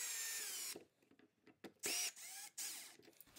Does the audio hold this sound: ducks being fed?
no